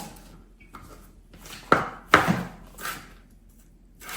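A knife chops carrots on a board, with two sharp, close thuds a moment apart and a softer cut after, set against quiet room sound.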